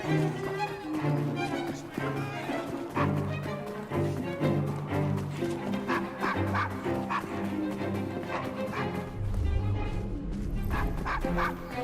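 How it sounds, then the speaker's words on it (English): A dog barks and yips in Assassin's Creed Syndicate, the short woofs scattered over a steady bed of in-game music and ambience, with a little speech. "Nice doggy."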